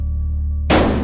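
A single loud shotgun blast goes off in a video game, a sharp broadband boom that cuts in abruptly after near-silence and rings briefly.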